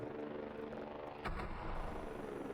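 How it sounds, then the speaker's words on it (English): A drone flying overhead in the game Voices of the Void gives a steady mechanical droning whir, with a brief louder swell partway through that then holds at a constant hum. "I gotta wait until the drone goes away so we can actually hear it."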